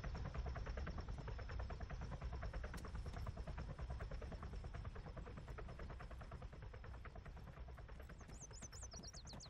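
A helicopter in the military game Arma 3 gives a steady low rotor thump and whine, distant and faint, continuous throughout with no talking.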